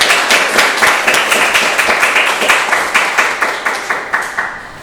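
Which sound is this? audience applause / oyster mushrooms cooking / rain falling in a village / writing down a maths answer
audience applause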